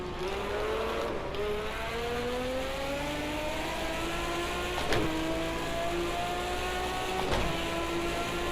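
A V12 engine revs loud and smooth, its pitch climbing steadily through the gears with brief dips at the shifts, sustained with no voices over it.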